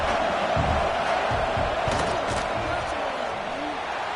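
A large stadium crowd at a football game roars steadily during a field goal attempt, a dense, continuous wash of noise with no clear breaks.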